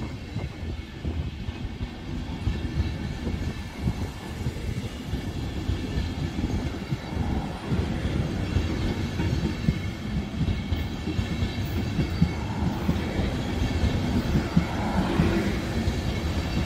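A train pulling out of Münster main station rumbles low and steady at middle distance, a continuous rolling drone with faint wheel clatter that builds slightly over time, no voices.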